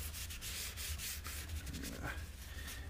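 A cloth rubs brown finish into scratched, distressed wood, making a steady close-up scrubbing and rasping friction that runs continuously with a few brief strokes and squeaks.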